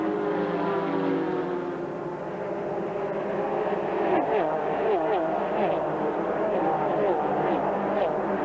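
NASCAR Busch Grand National race cars with V8 engines roar in a dense, continuous pack at the 1987 Country Squire 200, loud and steady, with engine pitches sweeping up and down as they pass.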